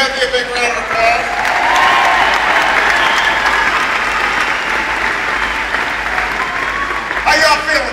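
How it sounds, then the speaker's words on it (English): Large outdoor Labor Day rally crowd in Cincinnati applauding a speech, a sustained wash of loud clapping and cheering that holds steady for several seconds, with a voice rising near the end. "want everybody to give a big round of applause to Charlie Dilbert for that great introducti"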